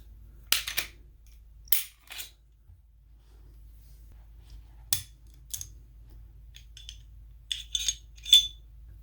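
Metallic clicks and snaps from an M&P9 2.0 full-size optics-ready pistol being taken apart, arriving as scattered short, crisp sounds with quiet gaps in between and no talking.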